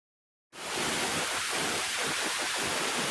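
Mossy Ledge Falls on Buck Creek in Pisgah National Forest pours as a steady, loud broadband rush of falling water, starting abruptly and continuing without pause, with faint low splashing pulses beneath the roar.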